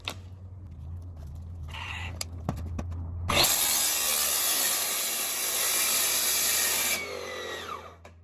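A power saw bites into sheet metal without a shim, the blade pinching as it cuts: a harsh, loud, sustained grinding screech after a few short knocks, cutting off abruptly.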